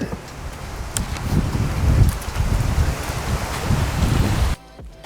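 Rain beginning to fall outdoors, a steady hiss of drops mixed with gusty wind buffeting the microphone, fairly loud and close, then abruptly cutting out near the end, no talk.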